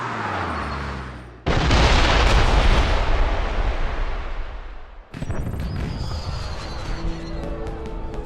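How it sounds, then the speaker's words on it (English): Heavy fireworks blasts booming close and loud, a sustained barrage of overlapping explosions followed by a sharp second burst of crackling reports with lingering rumble. "Did you know there were going to be fireworks?"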